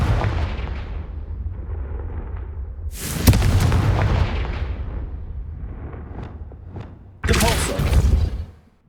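Fire spell blasts from Hogwarts Legacy go off as two sharp explosive bursts, each trailing into a rumbling roar, over continuous low game ambience.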